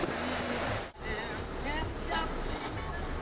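Wind and surf roar at a Finnish windsurfing beach during a wave championship, a constant broadband rush with a brief dip near the start. Voices speak faintly underneath.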